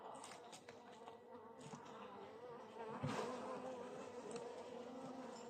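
Honey bees buzz close by during a spring hive inspection, a faint but continuous hum with a few louder swells as bees move near, and no speech.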